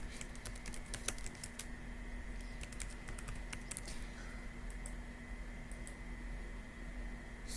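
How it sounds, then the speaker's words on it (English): Fingers type on a computer keyboard in quick irregular bursts of light clicks, fairly faint over a steady background hum. "just type it in"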